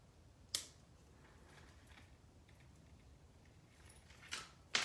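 A chain is cut at a jewelry bench with small cutters, giving three sharp, brief clicks, one early and two near the end, quiet and close over a faint room hush.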